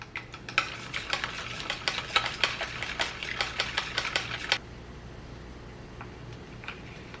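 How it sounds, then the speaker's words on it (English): An egg is whisked in a bowl while preparing a sweet potato bun for a salmon burger, with fast, steady clicking strokes for about four seconds before stopping, then a couple of faint taps. "So we are going to mix our egg."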